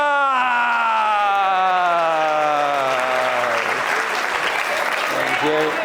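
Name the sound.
audience round of applause at a conference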